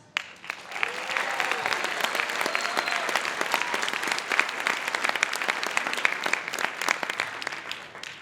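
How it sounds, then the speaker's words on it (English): At a high school band concert, the audience gives the percussionists a round of applause, a loud, dense clapping that rises quickly and holds steady for several seconds. "have another round of applause for those percussionists"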